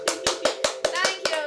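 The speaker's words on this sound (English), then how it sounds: "Let's have a round of applause." A small group claps hands for a moment, about eight sharp, evenly spaced claps ringing out close and loud, with a voice faintly mixed in.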